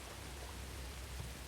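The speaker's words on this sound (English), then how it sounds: "No, this whole thing is covered in rain." Steady rain falls in the video game Jedi: Fallen Order, a faint, even hiss of broadband patter with a low rumble beneath, continuous and unchanging with no talk.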